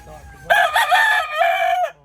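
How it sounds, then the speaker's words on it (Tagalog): A rooster crows once, loud and close, a drawn-out cock-a-doodle-doo rising and falling before cutting off. "manok yan ni Janjan"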